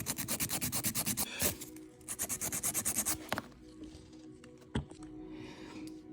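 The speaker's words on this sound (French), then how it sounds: "avec ma lime, je vais limer les bords." A nail file rasps along the edges of freshly cured gel nails in rapid, rhythmic back-and-forth strokes, two bursts of scratchy filing separated by brief pauses, close and crisp with a few light taps.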